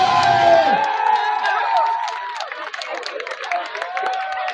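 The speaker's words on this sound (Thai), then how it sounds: "ขอเสียงปรบมือดังๆด้เวย" A crowd at a Thai event bursts into cheering and applause, loud and close at first, then settles into scattered sharp clapping with shouts mixed in.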